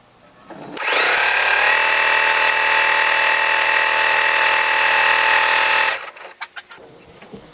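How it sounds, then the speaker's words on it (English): A sewing machine stitches face mask pieces together in one continuous, loud, close whir lasting about five seconds, then stops, followed by a few soft handling clicks. "Just a matter of sewing together."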